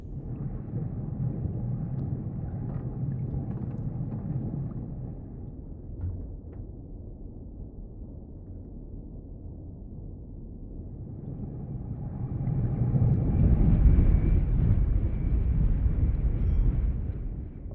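Low, steady rumble of submarine diesel engines turning over dead slow in the game Wolfpack, droning continuously and swelling louder toward the end, with no voices.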